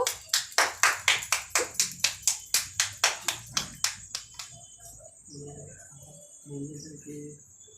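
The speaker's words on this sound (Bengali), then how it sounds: "জোরে হাততালি দাও।" Hands clap loud and steady in a quick, even rhythm of about sixteen claps at a small family celebration with cake cutting. The clapping stops after four seconds, giving way to a thin high tone and a few soft voices.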